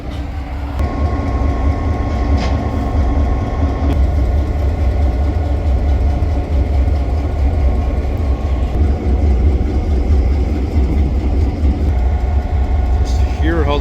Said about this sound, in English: Just hear how the engine's idle.